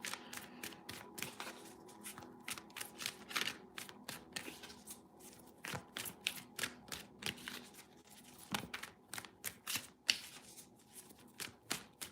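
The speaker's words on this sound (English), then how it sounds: "last shuffle, let's go." Tarot cards are shuffled repeatedly, with soft riffling flutters and quick papery slaps in an irregular rhythm, close by and fairly quiet, with no talking.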